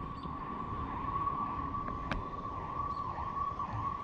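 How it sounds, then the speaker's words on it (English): A distant emergency siren wails steadily over a low rumble of traffic, with no one speaking. "Okay, we gotta wait for the sirens."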